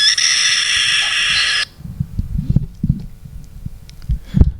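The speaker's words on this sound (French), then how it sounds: "Ça c'est le cri d'alarme du prédateur volant." The tail of a played-back rooster alarm call at a flying predator, a loud, harsh, sustained cry heard through loudspeakers at a talk, cuts off after about a second and a half, followed by low rumbling handling noise.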